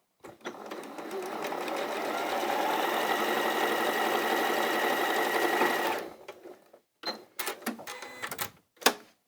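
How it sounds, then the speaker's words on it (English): A sewing machine stitches orange quilt fabric pieces together in a loud, steady whirring run of about six seconds, then stops, followed by a few short bursts of stitching and handling clatter. "Now I'm going to sew my orange onto there and my orange onto there."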